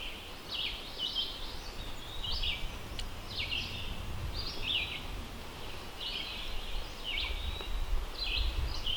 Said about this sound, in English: listening to the wind go through the trees, the birds